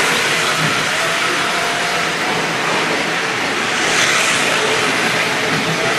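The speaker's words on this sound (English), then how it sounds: "I can feel the wind blowing off the fan off the turbo car." Steady whirring roar of a toy turbo car from a Hornby Triang Battle Space set with its fan running, a continuous broadband rush that swells slightly partway through, close and loud with no voices.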